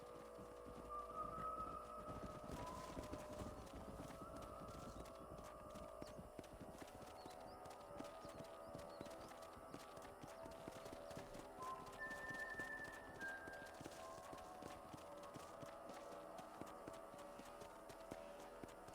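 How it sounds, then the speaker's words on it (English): Horses gallop in the video game Red Dead Redemption, a continuous, fairly faint clatter of many hoofbeats over a low rumble. Brief tonal game sounds rise above it now and then, with no talking. "Don't let those horses out of your sight."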